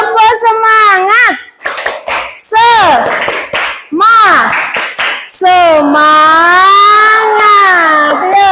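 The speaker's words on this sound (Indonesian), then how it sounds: "biar lebih semangat, kita tepuk dulu ya anak-anak semua" Children in a classroom doing a rhythmic spirit clap, sharp hand claps in short patterned bursts mixed with loud children's voices chanting along.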